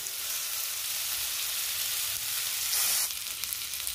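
Peri peri chicken, restaurant-style and brushed with oil, sizzling on a dosa tawa: a continuous close crackling fry hiss with a short louder burst near the end and no talk.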